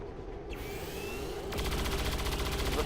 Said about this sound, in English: Luckily, we're getting a couple of Overwatch shots in, which should help a lot